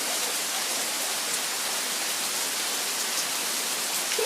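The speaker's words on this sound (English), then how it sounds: "It's raining pretty hard." A heavy downpour makes a loud, unbroken broadband roar that holds steady throughout, with no pauses and no voices.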